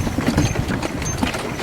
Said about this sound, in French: Qui arrive en calèche.